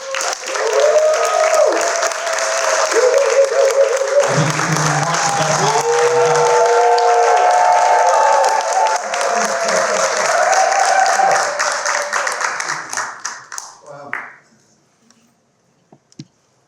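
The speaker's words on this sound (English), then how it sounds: "So I want you to clap and give him a massive clap for Stuart Freeman." A conference audience gives sustained, loud applause for Stuart Freeman, with cheers and music tones layered over the clapping, which fades out near the end into quiet.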